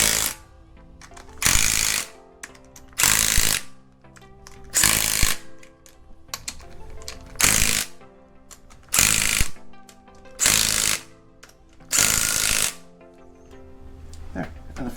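An air impact tool snugs front cover bolts onto an LS7 engine in loud, repeated hammering bursts of about a second each, with someone talking in the gaps between them.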